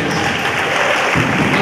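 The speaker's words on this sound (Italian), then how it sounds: "Grazie Patrick, facciamo a lui l'applauso adesso." Audience at a music concert bursts into clapping, a dense wash of applause swelling toward the end, close and loud.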